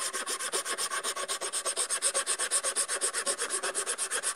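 A file rasps along the edge of an electric motor brush to smooth it, in fast, even back-and-forth strokes that are close, steady and unbroken, with no voices.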